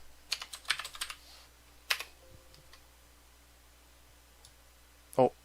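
Quick bursts of keyboard typing and clicking, then a single click, faint scattered taps, and a sharp click near the end in a quiet room.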